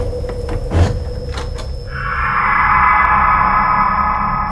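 A door being opened on a rainy night: a few knocks and clunks of the latch and handle, then a sustained hiss of rain and wind swells up as the door swings open.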